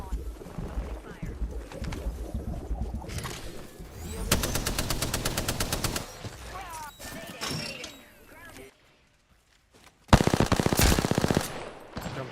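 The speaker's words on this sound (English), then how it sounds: "Opening fire." Bursts of rapid automatic gunfire in the video game Apex Legends rattle out in several loud volleys, separated by a near-silent gap, with game voice lines heard between them.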